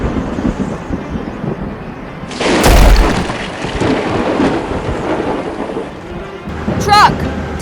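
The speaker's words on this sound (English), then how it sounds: "Thunder and lightning ahead!" Cartoon thunderstorm with a sudden loud thunder crash, then rumbling thunder and steady rain, close and dramatic, with a voice speaking over it.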